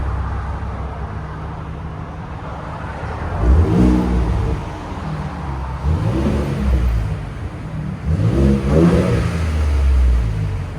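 Ford Raptor with the 3.5L EcoBoost V6 and stock exhaust, parked and blipped from idle; a quiet, low engine hum rises into three short rev surges, each climbing and falling back, moderately loud and close, with no talk.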